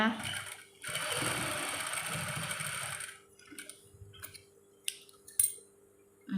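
An electric sewing machine stitches a buttonhole on a shirt, making a close, steady whirring run of about two seconds. Softer handling clicks and a woman's speech follow.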